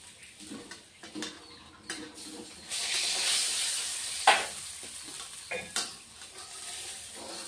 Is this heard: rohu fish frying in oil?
yes